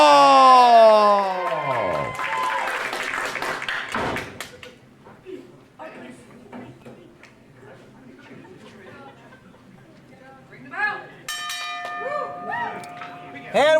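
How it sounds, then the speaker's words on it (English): A ring bell rings to start the main event at a wrestling show, the ringing tones opening the clip loudly, then crowd noise and thuds follow, with a second burst of bell-like ringing near the end. "And with the sound of the bell, our main event is underway."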